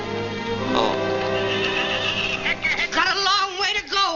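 Horses by the wagons in an old Oklahoma setting neigh and whinny loudly, one long whinny rising and falling, then shorter shaky neighs near the end, close and clear.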